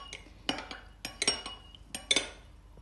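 Rice mixed with iodine is stirred in a dish, a utensil scraping and clinking against it in several separate bursts, close and fairly quiet, with no one talking.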